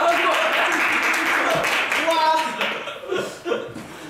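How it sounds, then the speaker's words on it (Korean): Crowd applause and clapping at a Korean idol duo's self-introduction, dense and steady at first, then thinning out into scattered claps with some laughter and voices mixed in. "박수 좀 쳐주세요!"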